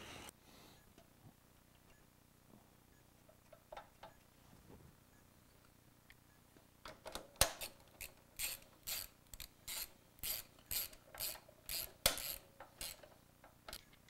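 A ratchet wrench tightening mount bolts on a Honda CRF motorcycle, a quiet stretch giving way to a run of sharp, close clicking bursts in a steady rhythm.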